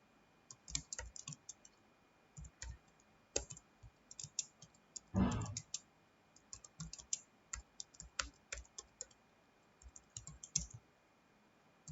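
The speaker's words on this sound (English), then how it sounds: "now we'll type the program" A computer keyboard clacks close by as an HTML program is typed, in irregular bursts of quick keystrokes. One louder, longer clatter comes about midway through, and the rest of the recording is quiet with no voice.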